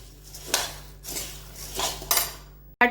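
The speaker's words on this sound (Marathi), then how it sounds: "कढई गार होईपर्यंत हे फिरवत राहायचं" Bhadang puffed rice being stirred in a hot kadhai with a spoon, giving a few dry rustling scrapes and metal clinks in irregular bursts, close and moderately loud, ending in a sharp knock.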